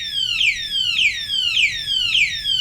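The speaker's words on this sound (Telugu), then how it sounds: "అది అలారం మోగడం స్టార్ట్ అవుతుంది" A two-wheeler smart lock alarm rings in repeated descending electronic chirps, about four cycles, with a shrill, steady siren-like tone and no voices.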